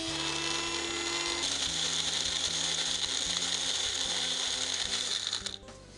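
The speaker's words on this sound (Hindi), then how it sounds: "Let's grind." A kitchen mixer grinds pineapple pieces with crushed ice for juice. It makes a loud, steady mechanical whir with a rattling edge that runs for about five seconds and then cuts off abruptly near the end.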